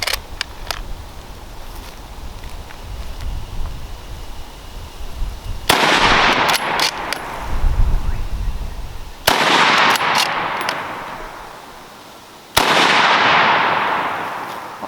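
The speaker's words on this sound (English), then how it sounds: "see how it handles the recoil in the 303" Several loud .303 rifle gunshots fired outdoors: three sharp cracks, each with a long decaying echo, preceded by lighter rustling and handling noise.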